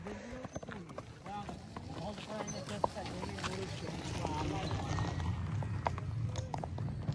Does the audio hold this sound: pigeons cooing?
no